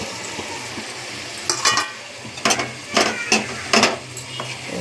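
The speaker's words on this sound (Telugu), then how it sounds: "టమాటా వేసేయాలి" Tomatoes go into a frying pan, bringing quiet background sizzling and several sharp clinks and scrapes of a utensil against the pan in a short burst of stirring.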